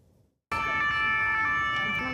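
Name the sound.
emergency vehicle sirens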